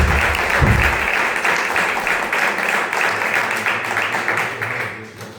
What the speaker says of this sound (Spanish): Francisco Rodríguez, un aplauso